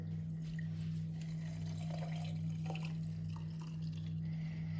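Watermelon lemonade poured into a glass gives a soft, steady liquid trickle with faint splashes, set against a constant low electrical hum, with no talking.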